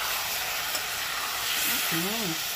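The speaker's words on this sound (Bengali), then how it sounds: "একটুখানি দিয়ে এবার ভালো মতো কষাতে হবে" Prawn kofta curry masala stir-fries in a pan with a splash of water, giving a continuous sizzling hiss with soft stirring, and a short voice sound rises briefly near the end.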